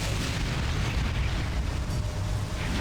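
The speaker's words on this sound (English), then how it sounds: "That was a large explosion." A large explosion in the Metroid: Other M video game, heard as a loud, sustained roaring rumble with no talk over it.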